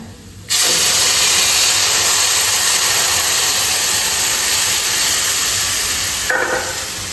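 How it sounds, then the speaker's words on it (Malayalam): Boiling hot water poured into semolina for Kasaragod-style sheera sets off a loud, steady hiss of steam that lasts about six seconds and fades at the end. "ഇനി നമുക്ക് നല്ല തിളച്ച ചൂടുവെള്ളം ഇടാം"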